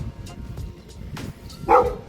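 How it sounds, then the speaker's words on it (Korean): A passing dog barks once, short and fairly clear over a low outdoor rumble, with quieter scattered sounds before it. "지나가는 개가 짖길래"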